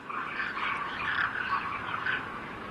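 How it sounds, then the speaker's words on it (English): Demoiselle cranes gather at Dalinur Lake at dusk, their calls forming a dense, steady chorus of overlapping chattering cries heard from a distance, with no voices. "At dusk, the demoiselle cranes feed in the fields and fly back to Dalinur Lake"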